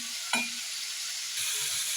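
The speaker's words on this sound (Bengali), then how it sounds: "এখন মশলা কষানো চলতে আছে" Spice paste being sautéed and stirred in a pan for a tangra fish curry: a steady close sizzle with a sharp stir scrape near the start and soft clinks later, no voices.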